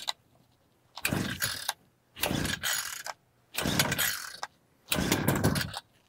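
A MAXTRA gas pole saw engine with the choke on is pull-started four times, each a rasping one-second recoil pull separated by short pauses, without firing into a run.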